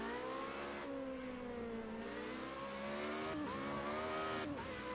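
Formula race car engine in Project Cars 2 screaming at high revs, pitch climbing and dropping sharply through quick gear changes, a steady close-up whine with brief cuts between shifts and no talk.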